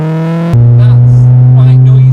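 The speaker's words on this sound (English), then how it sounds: "That's quite noisy inside the car." Loud, steady low exhaust drone heard from inside a car cabin fitted with a full non-resonated Milltek exhaust, 4-1 manifold and sports cat; a deep constant hum that jumps louder after a brief quieter start.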